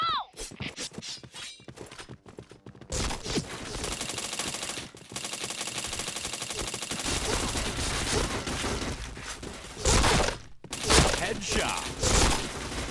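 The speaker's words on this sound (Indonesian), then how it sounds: "Dari mana nembakin aku nih?" Sustained automatic gunfire in a shooter video game forms a dense, loud barrage after a few scattered shots, with a brief lull before further bursts and some talking mixed in.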